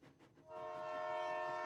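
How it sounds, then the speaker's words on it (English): A video game train chugs softly on its tracks, a faint rhythmic pulsing that swells into a sustained tonal, horn-like drone. "the soft chugging of train tracks wake me up"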